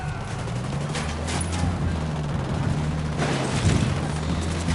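Rapid bursts of gunfire in the video game Ghost Recon Wildlands, loud repeated shots and booms rolling through the whole stretch, with a heavier burst near the end and no voices.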